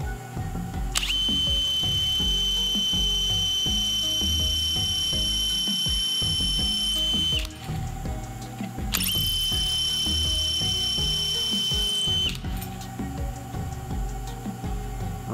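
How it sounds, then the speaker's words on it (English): A drill with a brad point bit boring a hole into soft soapstone, whining in two sustained high-pitched bursts with a short pause between them, close and steady, over grinding contact noise. "We're going to get the center of the drill bit in there. I'm just using a brad point, and the soapstone is pretty soft."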